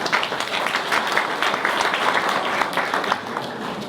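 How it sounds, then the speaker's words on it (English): Attendees at a property rental association member meeting applaud themselves, dense steady clapping from a room of people that fades slightly toward the end. "you should give yourself a round of applause for being here."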